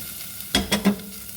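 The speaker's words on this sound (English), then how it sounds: "there goes that garlic. You let that go for a minute until it starts to get fragrant." Garlic hits a hot pot and sizzles in three quick, close bursts, then settles back to a quiet background hiss.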